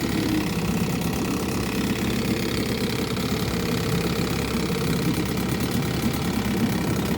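Small boat outboard motor idling nearby, a steady, even chugging drone with a fast, regular knock that holds unchanged throughout with no voices.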